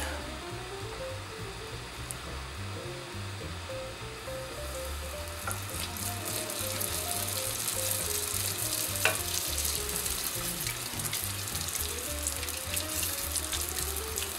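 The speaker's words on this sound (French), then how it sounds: "J'ai mis de l'huile à chauffer, donc pour les faire frire." Tunisian fricassé dough pieces fry in hot oil, a continuous dense sizzle and bubbling that swells louder partway through, close and steady with no talking.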